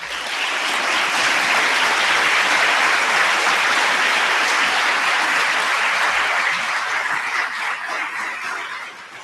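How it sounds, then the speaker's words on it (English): Sustained applause from an audience at an international scientific conference, dense and loud, clapping swelling quickly and holding steady for several seconds before beginning to taper near the end. "please give these fortunate young fellows a round of applause"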